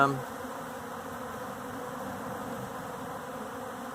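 Bees buzzing steadily at close range while being fed flour, a dense continuous hum that holds even throughout.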